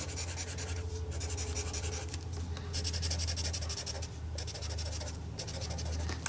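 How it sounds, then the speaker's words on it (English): A pen scribbling across paper in quick, continuous scratchy strokes with short pauses, close and fairly quiet over a low steady hum. "All right, we scribbled."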